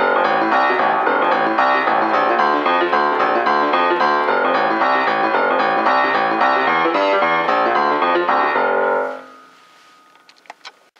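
Solo piano pounds out a driving boogie woogie with a rolling, repeating left-hand bass line under it, loud and unbroken for about nine seconds before the sound dies away into a few faint knocks.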